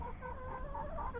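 Chickens clucking softly in a coop, a brief, faint run of low murmuring clucks heard close by with a dull background hum.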